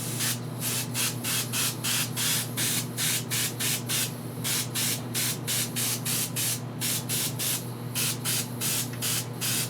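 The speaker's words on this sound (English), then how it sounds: "Take the airbrush." An airbrush spraying paint for a sky painting, sounding as rapid regular bursts of hissing spray about twice a second over a constant low compressor hum, close and steady without talking.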